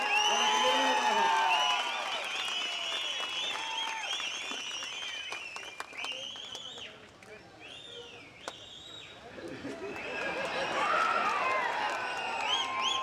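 At a Tamil political rally, a large crowd shouts, cheers and claps in a continuous loud roar. Excited voices rise and fall, then surge again near the end.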